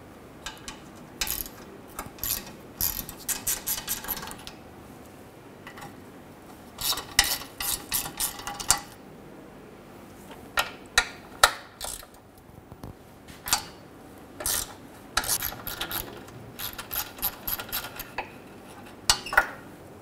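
A ratchet works on 10mm bolts along the rear ABS sensor harness of a 2003-2008 Honda Pilot, giving bursts of rapid metallic clicking separated by pauses and light clanks of tools.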